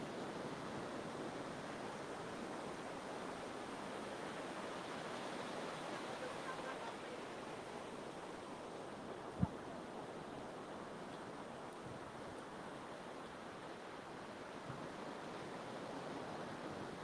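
Ocean waves washing against the shore, heard as a soft, steady broadband wash that stays even and quiet throughout, with one faint click partway through.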